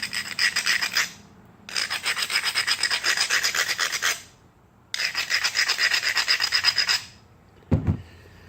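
An abrading stone scrapes along the edge of a flint slab during flintknapping, making three long bursts of rapid, close rasping strokes with short pauses between them, then a single brief knock.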